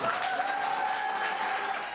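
Brief round of applause from a Congolese diaspora audience at a gathering with President Félix Tshisekedi in Belém, a dense even patter of many hands clapping, moderately loud and steady, with no talking over it.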